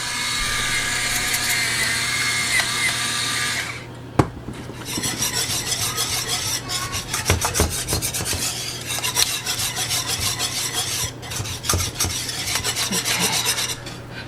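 Steady gritty grinding and rasping of a pepper grinder, first as a continuous whir, then as a run of scratchy twisting strokes, close by with a sharp click between.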